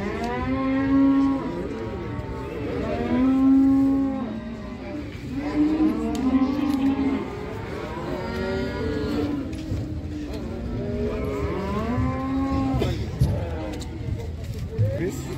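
At a livestock bazaar, cattle moo repeatedly in long, loud, drawn-out calls, several overlapping and fairly close, with people talking and vehicle noise in the background.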